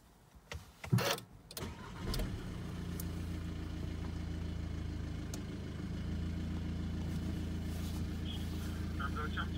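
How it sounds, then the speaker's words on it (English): A Volkswagen Tiguan Match Edition with push-button start cranks briefly with a short burst of noise, then settles into a low, steady idle that carries on to the end. Speech can be heard over it at times. "push button start"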